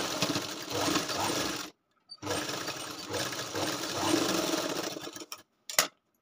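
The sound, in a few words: sewing machine stitching a katori blouse shoulder seam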